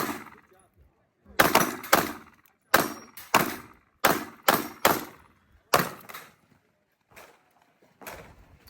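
Staccato pistol shots crack at an outdoor shooting range during a range day, about a dozen loud, sharp reports in uneven bursts with short pauses, then a few fainter shots trailing off.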